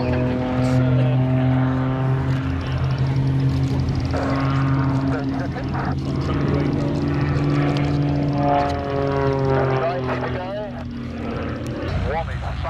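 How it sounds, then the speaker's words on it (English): Aerobatic display aircraft of the Royal Moroccan Air Force Green March team at an airshow, a sustained droning engine tone with shifting pitch and a slight fade near the end, with a commentator talking over it. "Display team flying these aircraft, the mark there is the Green March of the Royal Moroccan Air Force."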